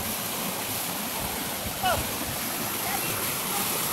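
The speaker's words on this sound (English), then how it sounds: "Can't forget our little waterfall right here." A small waterfall on a river rushes in a constant, loud broadband roar, with a brief voice or splash cutting in near the middle.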